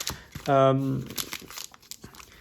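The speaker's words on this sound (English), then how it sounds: "we're just gonna rip into these packs" A trading card booster pack wrapper for the League of Legends card game is ripped open, giving a short crinkling tear in the middle, with a voice talking around it.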